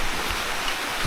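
Steady rain pours down in a deep forest at night, a dense even hiss with no pause over a single second.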